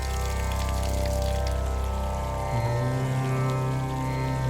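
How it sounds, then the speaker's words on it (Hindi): Water pours steadily from a cow-mouth shaped tap at a temple in Kedarnath, a continuous close splashing stream with a slight change in tone midway. "गाय के मुख जैसा या नंदी जैसा पानी के नल, जिसमें हमेशा पानी आता रहता है"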